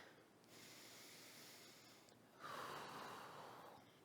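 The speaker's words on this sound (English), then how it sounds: "Get your breathing going, inhaling through your nose," Steady breathing during a lower-body stretching workout: a soft nasal inhale followed by a louder, breathy exhale through the mouth, close and alone with no talk.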